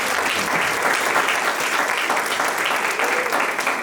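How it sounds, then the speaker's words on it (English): An audience at a community development gala in Albany breaks into dense, sustained applause, a thick wash of many hands clapping evenly for several seconds with no break. "So give yourselves a round of applause."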